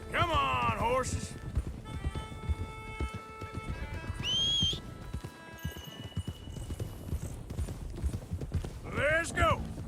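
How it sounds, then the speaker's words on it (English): Horse hooves clip-clop at a gallop in the Red Dead Redemption 2 video game, a busy continuous rhythm of hoofbeats with neighs and whinnies, under voices shouting and calling out. "Come on, horses!"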